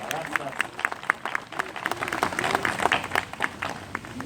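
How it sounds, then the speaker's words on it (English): Wedding guests applauding, a modest crowd clapping in uneven, lively bursts with voices mixed in beneath the claps. "Let's give a round of applause."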